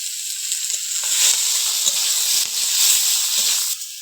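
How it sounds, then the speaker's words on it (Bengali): Prawns frying in hot oil with turmeric and salt, a steady, close, loud sizzle and hiss that holds throughout with small crackles, and no voices. "এবার মাছগুলো ভেজে দেব"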